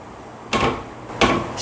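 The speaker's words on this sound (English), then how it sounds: "Joe, push in real hard on the door" A door is pushed hard twice, each shove giving a dull thump and a brief rattle, about seven-tenths of a second apart, fairly close and loud in an indoor room.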